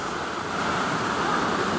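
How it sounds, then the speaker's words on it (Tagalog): Steady rushing water from San Roque Waterfalls in Quezon, a constant broad hiss of water pouring nearby, with no breaks. "ito po ang San Roque Waterfalls."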